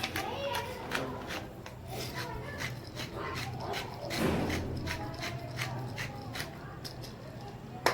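Eggs seasoned with salt, red chili and black pepper are beaten with a beater for an egg burger, giving quick regular rubbing, clicking strokes close up, with faint background noise.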